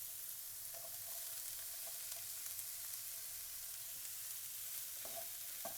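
Orange and yellow sweet peppers with serrano and red peppers sautéing in a pan, giving a constant dense sizzle with a few faint utensil taps, steady and close.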